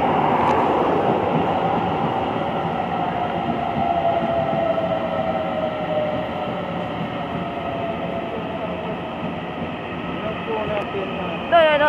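An EMU900 local train pulls into Hukou station bound for Miaoli, a loud sustained rumble with a slowly falling whine as it slows, brakes hissing near the end, with voices faint underneath.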